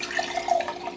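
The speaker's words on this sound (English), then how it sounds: "And here is our bowl filled with water. And we will pour that into our" Water pours from a bowl into a measuring cup in a short, close splashing trickle lasting about a second, with no talking.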